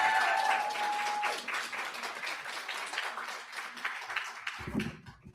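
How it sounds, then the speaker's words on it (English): Audience at a university debate summit applauding as the debate teams are called up, a fairly distant, steady round of clapping that fades out near the end, with a brief voice over it at the start. "Give a round of applause for them."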